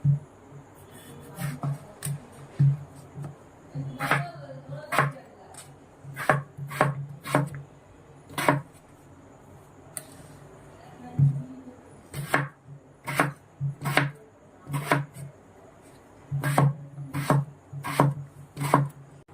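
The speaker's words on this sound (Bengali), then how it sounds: "এভাবে সব আলুগুলো আমি কেটে নিচ্ছি।" A knife chops potatoes on a board in a kitchen, making a long run of sharp, close taps in uneven bursts, sometimes quick and sometimes spaced, with a soft low hum underneath and nobody speaking.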